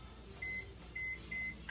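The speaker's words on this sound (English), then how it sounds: "I'm going to soften it up in the microwave." Microwave oven softening cream cheese, with three clear electronic beeps in a quiet room and a faint hum beneath.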